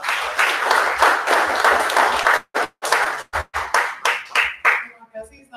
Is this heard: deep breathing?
no